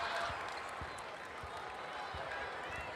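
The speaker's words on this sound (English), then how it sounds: "the crowd gets one more thing to cheer about." A crowd at a Big Ten women's basketball game in College Park cheers and claps, a broad, fairly soft roar from the arena with occasional ball bounces underneath.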